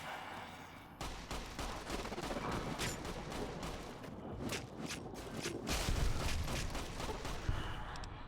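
Gunfire in the Fallout New Vegas game, a string of repeated sharp shots at an irregular pace, fairly faint overall over a noisy background.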